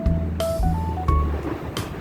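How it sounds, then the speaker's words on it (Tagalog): Sea waves strike a seawall at high tide, with a continuous low rushing surge and a few brief sharper splashes, and no talking. "hampas ng alon sa seawall."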